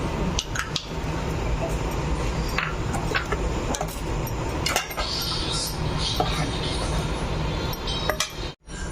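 Ground paste poured into a pot of cooked mango for mango pulissery, with repeated metallic clinks of a spoon against the vessel over a constant kitchen background, a voice speaking now and then.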